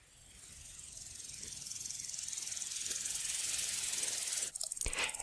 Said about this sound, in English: Easy to hear, not so easy to see, this is a common green grasshopper